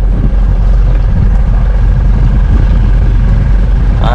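A small motor-fitted wooden boat running on the Alappuzha backwaters in Kerala, its engine a steady, loud low drone with constant rumble throughout and no speech.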